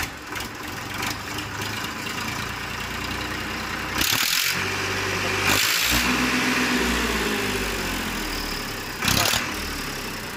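A Massey Ferguson 1035 DI tractor engine runs at a steady idle nearby, a continuous low rumble with a few brief louder bursts and people talking over it.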